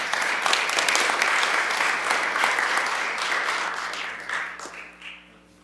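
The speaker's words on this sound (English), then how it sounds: "Round of applause." Applause at a city council meeting in Peoria, Illinois, a steady burst of many hands clapping that gradually tapers off and fades out.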